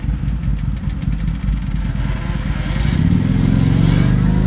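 Several ATVs pulling away together, engines building from a rough idle into a louder, steadier rising drone partway through, heard close and without talk.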